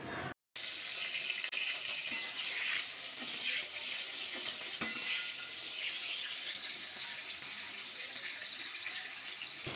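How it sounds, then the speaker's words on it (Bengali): Eggplant pieces frying in hot white oil in a wok, giving a continuous loud sizzle and crackle that holds steady with occasional pops. "বেগুন ভাজা করার জন্য কড়াতে সাদা তেল অ্যাড করে দেবো"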